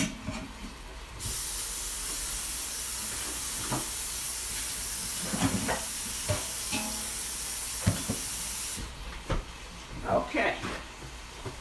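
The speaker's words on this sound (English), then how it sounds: "I'm going to rinse this cabbage" Tap water running into a kitchen sink while cabbage is rinsed, a steady bright hiss that starts abruptly and stops several seconds later, with clunks and handling noises around it.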